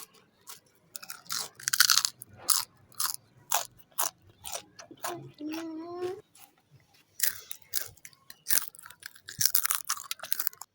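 Crispy homemade potato chips being bitten and chewed up close, with a run of sharp, irregular crunches and short pauses between bites, loud and dry, with no talking.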